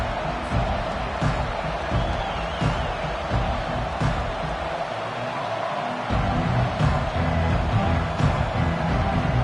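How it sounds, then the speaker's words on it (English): Large football stadium crowd at a Michigan vs Ohio State game roaring and cheering steadily throughout, a dense sustained wash of noise with swelling peaks, loud and continuous. "Challenge this crowd to bring the energy, and I'd say they're doing that."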